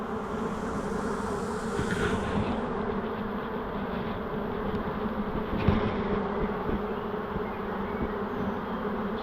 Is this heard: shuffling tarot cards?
no